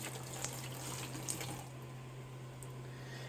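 Warm water is poured steadily onto peat pellets for an indoor winter garden, giving a soft, continuous trickling splash at low volume over a faint steady hum.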